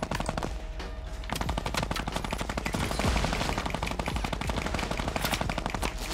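Minigun fire in Fortnite, a dense rapid stream of shots running loud and continuous from start to finish.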